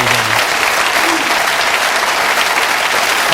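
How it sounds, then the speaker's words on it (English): Applause from a talk-show audience fills the room, dense and steady throughout, with a brief voice at the start. "Give them a round of applause."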